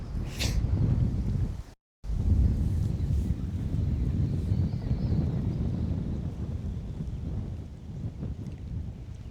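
Wind buffeting a microphone outdoors while fishing for crappie with a slip bobber and jig in early spring, a steady low rumble of gusts with one brief dropout.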